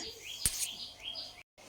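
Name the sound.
newly hatched chicks chirping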